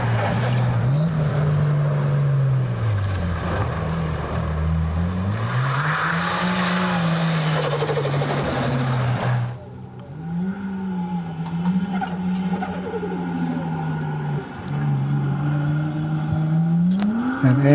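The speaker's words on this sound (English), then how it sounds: "Andy Burt's up there with another Nissan Skyline, who's R31." A Nissan Skyline R31 race car on a hillclimb run: a loud, sustained engine note rising and falling through gear changes, with tyre squeal and a sudden shift to a more distant, rougher engine sound partway through.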